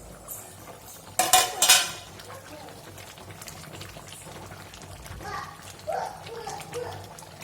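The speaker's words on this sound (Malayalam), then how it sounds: "ഇടയ്ക്കൊന്ന് ഇളക്കി തുറന്നിളക്കി ഉള്ളിലെല്ലാം ഇങ്ങനെ ജസ്റ്റ് ഒന്ന് ഇളക്കി കൊടുക്കുക" A spoon clinks and scrapes in a bronze uruli as chicken curry is stirred, with bright metallic rattles early and softer scraping later, close, with a faint voice underneath.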